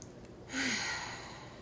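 A single deep exhalation during a yoga breathing practice, a breathy sigh-like rush of air close to the microphone, rising suddenly and then fading out slowly over about a second.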